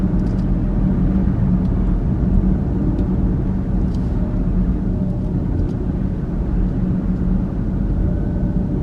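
Car driving down a street in Boca Chica, Texas, a steady, close engine and road rumble that holds evenly throughout with no pauses.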